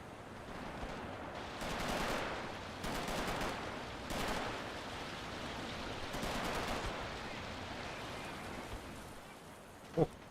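Explosions and rapid gunfire in a mechanized-infantry strategy game during a tournament match, several rumbling bursts of fire spaced a second or two apart, fairly faint and distant, with a sharp click near the end.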